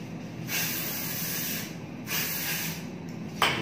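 Belo body cream is sprayed in short hissing bursts from a nozzle, three or four close, breathy sprays separated by brief pauses, with no talking over them.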